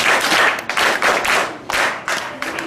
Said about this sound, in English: Let us give them a hand clap.